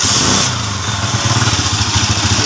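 Motorcycle engine running steadily after being started, a low throbbing idle with a slight rise in pulse partway through, fairly close and loud with no talk over it.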